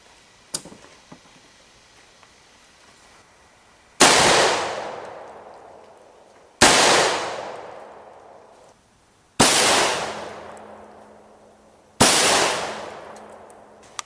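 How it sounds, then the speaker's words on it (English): Two .223 HPR 55-grain rounds fired at a 3/8-inch hot rolled steel plate: four sharp, loud broadband cracks, roughly evenly spaced, each ringing off in a long decaying tail. "Gonna go with 2 rounds of 223 HPR in the 3/8 inch hot rolled steel."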